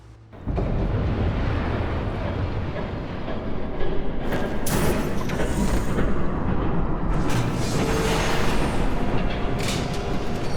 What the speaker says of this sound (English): There's a train coming.